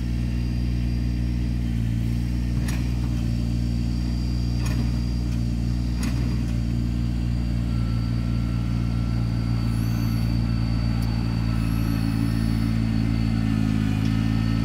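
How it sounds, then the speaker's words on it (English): Kubota BX23S compact tractor engine running steadily while clearing debris, a constant close mechanical drone with a few sharp clanks and faint high squeaks over it, no talking. "But right now we're just enjoying clearing it off with this tractor."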